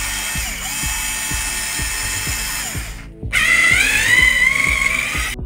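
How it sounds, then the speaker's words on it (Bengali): A mini rechargeable cordless screwdriver spins its bit in a steady close-up whir, with rapid regular ratcheting clicks running underneath, briefly cutting out before resuming at a slightly higher, louder pitch. "দেখুন মেশিনটি তুলে নেওয়া মাত্রই বিটটি ঘোরা শুরু করেছে"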